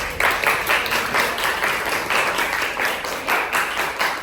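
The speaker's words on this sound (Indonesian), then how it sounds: "Oke, tepuk tangan dong." Classroom of students clapping together on a teacher's cue during a lesson, a fairly loud rhythmic burst of many hands with regular pulses throughout and no talk over it.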